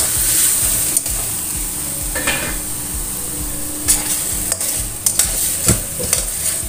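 Chicken and carrot for soup sauté in a pan, with a loud, close sizzle under repeated scraping stirs and metallic clinks of a utensil against the pan, with no voices.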